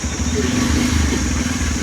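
A freshly repaired motorcycle at a roadside bike garage runs with a loud, steady engine drone and slight rises in pitch, close and continuous throughout.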